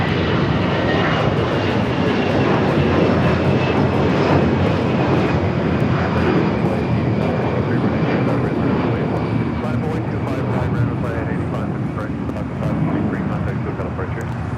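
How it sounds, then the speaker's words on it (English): A Japan Airlines Boeing 777-300ER bound for Tokyo Haneda roars steadily at Los Angeles airport, a loud, continuous broadband jet rumble and hiss that holds level for the whole stretch. "Flight heading back to Tokyo Haneda in the 777 at 300 ER."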